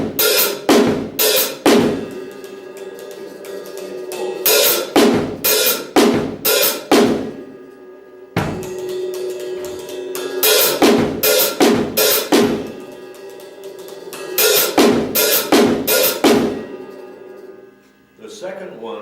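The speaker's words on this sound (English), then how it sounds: "I can put my right hand on the hi-hat and then get that sound." A drum kit pattern with the right hand on the hi-hat playing broken eighth notes, heard as crisp groups of strokes separated by short gaps and repeating steadily throughout.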